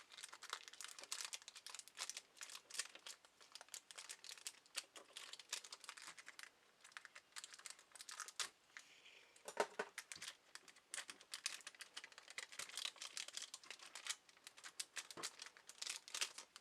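A Bakugan Battle Planet Resurgence booster pack wrapper is crinkled, torn and picked at by hand. The crackling and rustling is quiet and close, comes in irregular, steady bursts and runs without talk.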